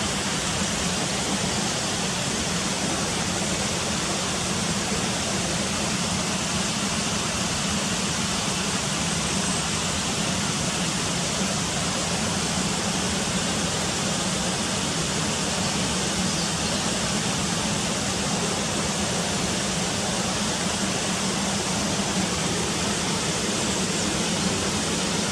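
Cotter Force waterfall pours in a dense, unbroken roar of rushing water, loud and close, steady for the whole stretch with no voices.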